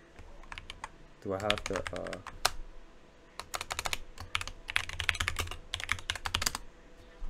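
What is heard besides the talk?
typing a command on a computer keyboard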